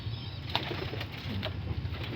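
Pigeons kept in a loft give soft, low cooing close by, broken by a few brief bursts of wing flapping, over a steady background hum, with no one speaking.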